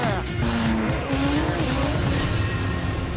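Monster truck engines roar at a Monster Jam live event, with loud, sustained revving and shifting engine tones alongside tire squeal and skidding, close and continuous throughout.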